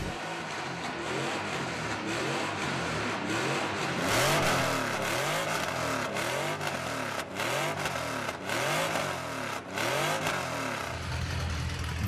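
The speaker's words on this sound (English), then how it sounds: "That was the sound of a six-cylinder, 600 horsepower boxer engine." A Porsche six-cylinder 600-horsepower boxer engine revving repeatedly, rising and falling engine pitch in quick cycles, moderately loud and continuous with no speech.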